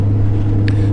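Loud cabin noise inside a manual Nissan Skyline GT-R R33 while driving, a heavy, steady low engine and road drone filling the interior, with a brief faint tick near the end.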